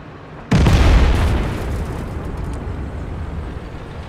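An artillery shell explodes in World of Tanks on the Serene Coast map, a sudden loud boom that rumbles and slowly fades over several seconds, with no voices.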